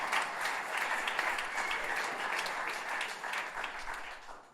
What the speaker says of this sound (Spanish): Un fuerte aplauso para el presidente